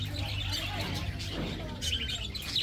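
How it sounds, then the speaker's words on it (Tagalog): Small birds chirp and tweet in short, scattered calls against a noisy, busy background, with people talking intermittently nearby. "Takot tata sa ibon ha."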